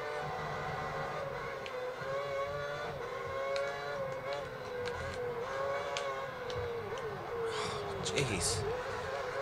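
Racing cars in the Formula 1 2010 video game, engines whining at steady pitch with rising and falling gear sweeps, a sharper burst of tyre and engine noise near the end, heard quietly and continuously.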